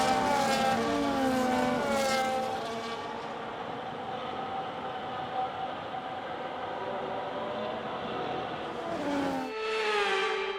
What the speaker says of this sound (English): The formation lap gets underway then